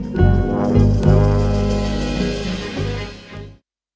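A 1972 soul recording plays as a sample: a dense, warm mix with a heavy bass and sustained instruments, loud and continuous for about three and a half seconds before cutting off.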